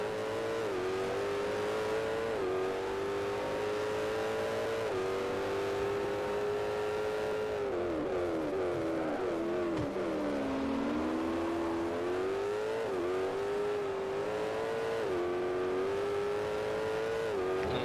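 Cadillac engine in the Forza Motorsport 4 racing game, a steady droning note that dips and rises as the car accelerates, with gear changes, loud and continuous with no talk.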